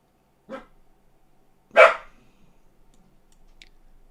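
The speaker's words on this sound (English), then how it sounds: "Max is barking." A dog named Max barks twice, a short bark followed about a second later by a louder, fuller one, fairly close, with quiet room tone between and after.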